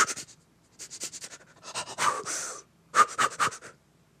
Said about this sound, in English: There's a shorter one called chaotic breathing.